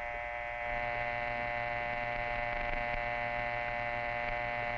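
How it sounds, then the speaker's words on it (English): A 1949-era telephone dial tone: a steady electrical hum with bright stacked harmonics, holding at an even level throughout with no voices. "That's the dial tone."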